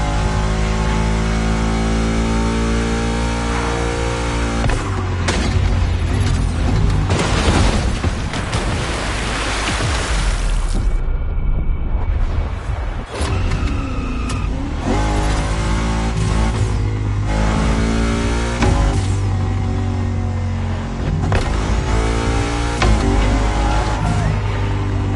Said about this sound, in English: Now it's time to go with a more compact and versatile option, the motorbike. Our choice, the BMW R1200 GS.